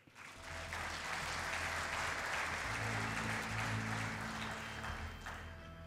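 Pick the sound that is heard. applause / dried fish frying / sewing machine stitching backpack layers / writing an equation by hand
applause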